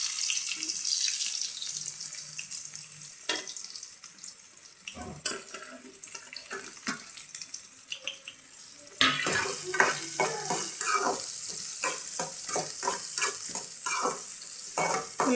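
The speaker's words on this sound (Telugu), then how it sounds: "ఉల్లిపాయలు కొంచెం దోరగా ఫ్రై అయ్యేంత వరకు ఫ్రై చేసుకున్నాం. అట్లాగే పచ్చిమిర్చి కూడా వేసేసుకున్నామండి." Onions and green chillies with mustard seeds frying in a pan for a drumstick curry, quiet sizzling with scraping stirs that grow busier and louder in the second half, with no talking.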